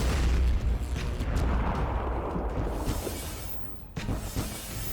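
Twin mortar towers in the tower defense game Hope's End fire a series of dull booming blasts with rumbling low impacts and debris crackle, one heavier burst near the end, playing on their own without voices.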